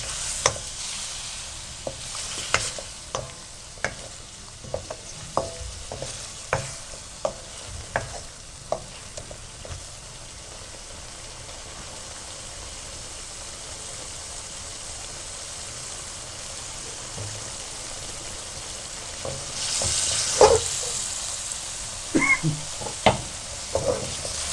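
Chicken karahi with BBQ flavouring cooking in a pan over a medium flame, giving a steady soft sizzle broken by scattered clinks and scrapes of stirring, louder bursts near the end, with no talking.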